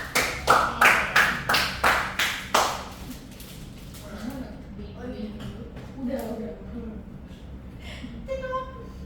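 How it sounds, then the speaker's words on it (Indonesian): A small classroom group at a microteaching session claps in about eight loud, evenly spaced bursts, then the clapping thins into scattered taps while a voice speaks over it. "Beri tepuk tangan dong"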